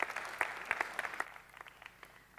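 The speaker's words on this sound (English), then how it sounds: "Please, everybody, a round of applause for Ben." Audience applause at an advanced dairy farming seminar at EuroTier 2022, a faint, scattered patter of claps from a distance that thins and fades out within a couple of seconds.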